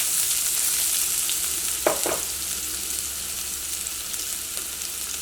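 Sliced onion goes into hot coconut oil with fenugreek seeds for Kerala moru curry, making a continuous close frying hiss with a brief louder sizzling burst near the middle, no voices.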